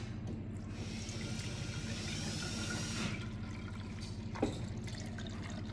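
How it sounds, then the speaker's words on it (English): Homemade buttermilk pours through a small strainer into a measuring cup, a soft continuous liquid stream that tapers off, followed by faint drips and a light knock. "take a little measuring cup with a little strainer inside of it, and you can dump out all your buttermilk in there"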